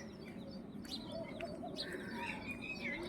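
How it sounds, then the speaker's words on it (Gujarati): Several birds chirp and call in short, bright bursts, while a low cooing sounds underneath in a quiet, open village setting near hills in the morning. "પક્ષીઓ સુંદર મજાના કલરવ કરી રહ્યા છે."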